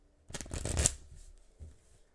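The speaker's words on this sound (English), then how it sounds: "This is my last shuffle." A tarot deck riffled and shuffled close up in one quick papery burst, followed by a softer tap as the cards settle.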